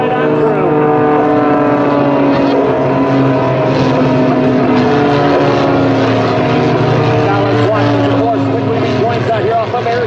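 An aerobatic team of propeller aircraft flying a four-leaf clover manoeuvre, their engines droning loudly in layered tones that shift in pitch as they sweep past, with a voice over the engines.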